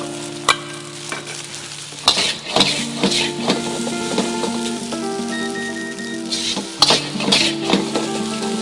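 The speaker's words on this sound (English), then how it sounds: "This creates a non-stick coating for when the rice hits the hot wok." Egg fried rice stir-fried in a hot wok gives a steady close sizzle, broken by sharp scraping and clattering strokes of the spatula, with no voices.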